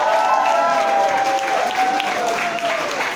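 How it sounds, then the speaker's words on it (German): A burst of enthusiastic applause from a concert crowd, dense and steady clapping with some cheering mixed in. "Großen Applaus für Wolfgang."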